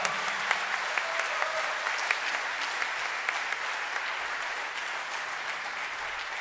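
A church audience applauds at a live concert after a band's cover performance, a steady dense wash of clapping that holds at an even level throughout with no one speaking.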